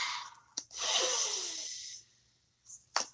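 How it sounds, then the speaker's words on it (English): A slow, deep breath taken during a spoken prayer blessing: a brief sniff, then a long airy inhale lasting over a second, followed by a soft exhale, all close and quiet. "Take a nice deep breath."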